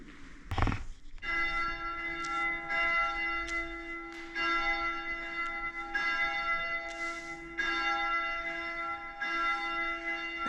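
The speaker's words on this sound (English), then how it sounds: "And that is the wishing bell." The wishing bell on the island in Lake Bled rings out with a sharp first strike followed by long, ringing tones, struck repeatedly with a sustained hum between strikes, close and clear.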